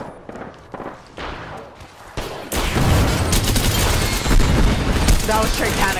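A grenade blast in an online battle-royale shooter roars up loud and close, followed by a sustained rumble of debris and scattered gunfire, with brief shouted voices earlier over lighter shots.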